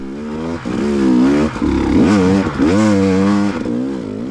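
Motorcycle engine revving hard on a hill climb with wet spots, rear tire spinning and then gaining traction, loud and close with rising and falling engine pitch throughout.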